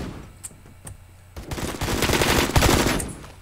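Rapid automatic AK12 rifle fire from the Roblox game Phantom Forces, a couple of single shots followed by a dense, loud burst of gunfire.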